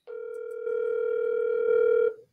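An unanswered telephone call produces a single steady ringing tone lasting about two seconds, loud and clear with no voices, then cutting off.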